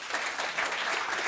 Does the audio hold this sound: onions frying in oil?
no